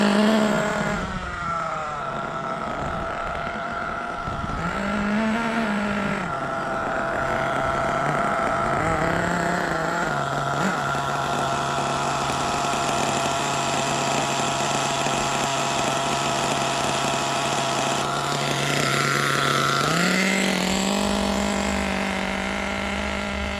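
A nitro HPI Trophy Truggy 4.6 (.28) RC engine running rich during break-in, a steady buzzing idle with pitch rises and dips as the throttle shifts, close and continuous throughout with no talking.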